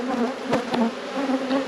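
Honey bees drone around an open, queenless rescued beehive, a close, continuous buzz broken by a few individual bees zipping sharply past the microphone.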